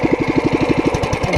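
A go-kart's small engine idles steadily with a fast, even putter, loud and close, and no other sounds over it.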